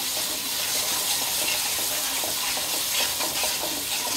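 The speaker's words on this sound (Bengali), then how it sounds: "এখন আমি একটু নাড়া দিয়ে দিব" Biryani spices with salt and chili powder are stirred in a pot over the heat, giving a continuous close, loud sizzling hiss with soft scraping stir movements and no speech.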